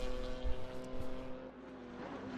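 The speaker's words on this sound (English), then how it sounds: "You can just hear the beamer. It sounds like a tin." A BMW race car engine in Assetto Corsa Competizione at Silverstone drones steadily with shifting pitch, a thin, tinny buzz that rises and falls, with no talking.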